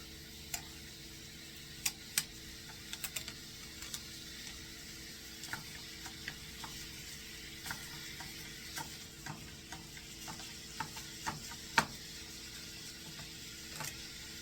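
Lean ground beef browning in a pan for a one-pan stroganoff, giving a low, steady, faint sizzle with scattered small ticks and pops throughout, no talking.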